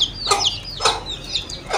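Fancy hens cluck nearby in a few short bursts, with sharp squawking calls spaced about half a second apart.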